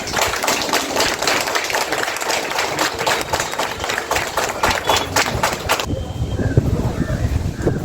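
Audience clapping for doctors at a health product seminar, a dense, steady patter of claps through most of the stretch that drops away sharply near the end, leaving quieter room noise.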